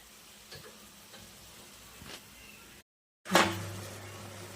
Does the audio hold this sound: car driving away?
no